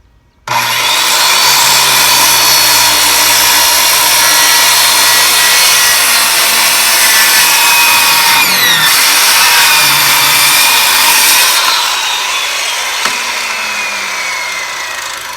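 A power saw cutting a wooden cross tie for a roof, the piece fastened to a deck; a loud, sustained whining cut starts abruptly and runs steadily, easing slightly near the end.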